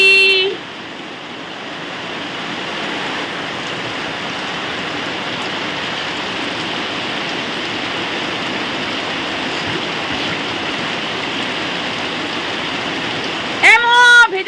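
Heavy rain falls in a dense, loud, unbroken roar that fills the whole stretch, close and steady, with brief voices at the very start and end.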